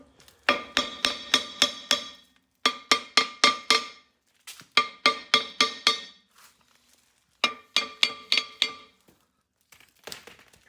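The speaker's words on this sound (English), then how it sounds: "Let me get a hammer." Repeated metallic hammer taps on a Jeep XJ rear axle ring out in quick rhythmic bursts of several strikes each, separated by short pauses, loud and close.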